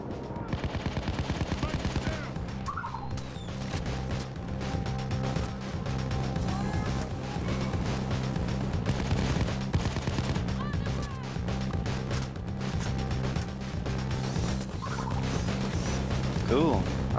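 Gunfire in a Nintendo Switch shooter as a player takes out enemy snipers, with steady loud shooting and game noise running throughout, a voice occasionally talking over it.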